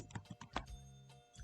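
Keys clack on a computer keyboard in a quick, uneven burst of several close, soft taps, with no talking.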